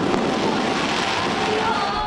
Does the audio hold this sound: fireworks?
yes